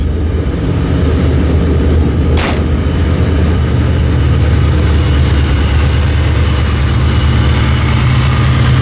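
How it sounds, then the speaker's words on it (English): Engine of a 2003 GT project car idling close by, a loud, steady rumble with a constant low exhaust tone and no voices. "Oh, motor sounds great."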